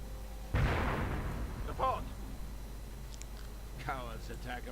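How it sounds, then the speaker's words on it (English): Artillery barrage in a strategy game: a loud burst of firing breaks in near the start and rumbles away, with smaller bangs following. "He did manage a bit with that registered artillery barrage"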